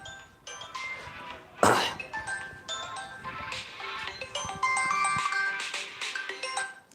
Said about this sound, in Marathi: एक मिनिट मित्रांनो कॉल येत आहेत